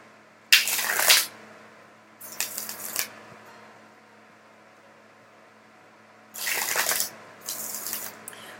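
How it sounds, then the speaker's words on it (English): Four bursts of cards being shuffled, crisp riffling rustles lasting about a second each, with quiet pauses between them. "I'm going to shuffle up"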